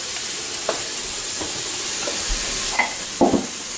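Hash browns sautéing in an Instant Pot give a steady close sizzle with faint steamy hiss, punctuated by a few light utensil clicks and scrapes, no voices.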